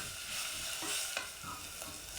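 Grated ginger being stirred into a pot of low FODMAP pumpkin and chicken soup base with oregano, cumin, mustard powder and turmeric, giving a soft, steady scraping and stirring with a faint sizzle underneath.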